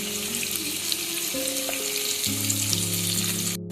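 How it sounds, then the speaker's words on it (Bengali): Onions frying in a pan with a steady hiss of sizzling oil, overlaid by some humming tones, ending abruptly. "পেঁয়াজটা ভাজবেন, না হলে পেঁয়াজ একটা লাল লাল তাড়াতাড়ি হয়ে যায়।"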